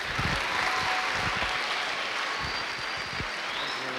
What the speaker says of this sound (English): Big round of applause for Mayor Bliss, please